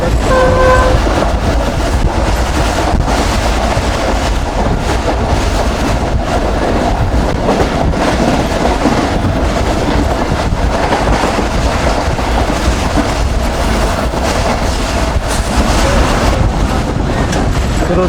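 Pak Business Express passenger train running at speed between Karachi and Lahore, heard from on board as a loud, constant rumble with rhythmic wheel clatter on the rails and a brief horn tone early on.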